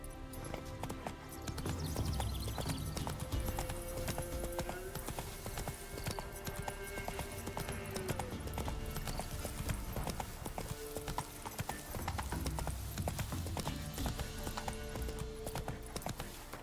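Horse hooves clip-clopping in The Witcher 3 video game, a steady galloping rhythm of hoofbeats throughout, with game music and faint ambient effects underneath.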